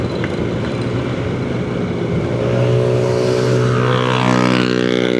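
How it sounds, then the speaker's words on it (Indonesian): A loud, noisy vehicle speeds past on a wide residential housing-complex road, its engine note rising and holding a steady droning roar that swells toward the end, with no talk. "Baru diomongin udah berisik, kebut-kebut, menikung jalur orang."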